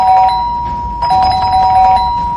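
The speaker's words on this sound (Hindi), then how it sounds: "डोरबेल बजे जा रही थी" An electronic doorbell chimes repeatedly with bright sustained tones, ringing again and again without pause, loud and close.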